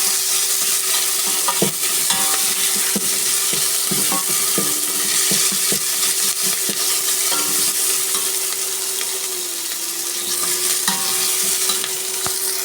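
Onions and green chillies sauté in a little oil in a pressure cooker for chicken curry, a steady close sizzle broken by repeated scrapes and knocks of a stirring spoon, with a faint continuous hum underneath.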